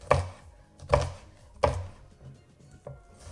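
Knife chopping vegetables on a cutting board for homemade salsa, four evenly spaced, close, sharp thuds with short pauses between, no talking.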